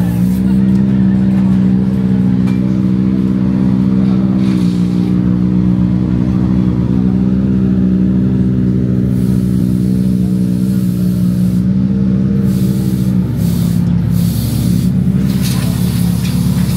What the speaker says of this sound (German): Bei South Racing sind die ersten Autos zurück, der Lukas noch nicht.